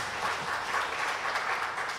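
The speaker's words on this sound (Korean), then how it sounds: "우리 박수로 한번 환영하도록 하겠습니다" A church congregation at a Sunday worship service claps in welcome, a dense, even wash of applause from many hands that holds steady for a couple of seconds.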